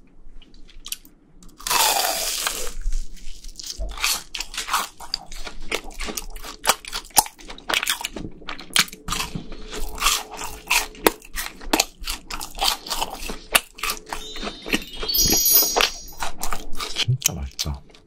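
Crunchy BHC cheese balls being bitten and chewed up close, crisp crackling crunches in a steady irregular run with a few brief voice sounds between bites.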